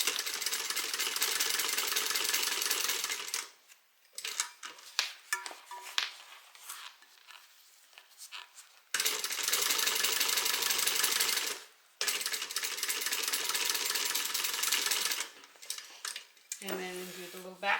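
A sewing machine stitches a bag lining in loud, rapid bursts of mechanical clatter, separated by short pauses and light handling sounds.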